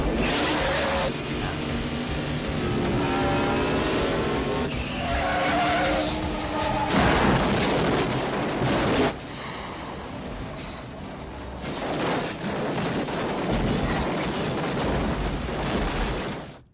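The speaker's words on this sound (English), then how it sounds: "There's a crash coming out of turn 4" A race car crash in a racing movie, engines roaring continuously with squealing tires and a heavy impact and debris rumble midway, loud and dense throughout with a brief faint voice underneath.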